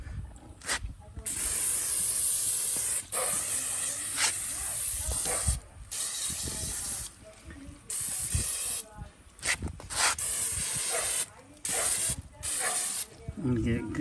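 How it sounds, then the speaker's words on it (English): Cooking spray hisses from an aerosol can onto an aluminum basket for an oil-less turkey fryer, long loud bursts of spray separated by short pauses, with someone talking between them. "we're going to spray this basket down"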